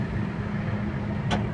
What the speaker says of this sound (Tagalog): Daghan-daghan ang sakyanan ng Davao dol kaya magsige na magka-traffic.